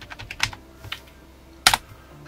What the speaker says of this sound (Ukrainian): Перевірку клавіатури.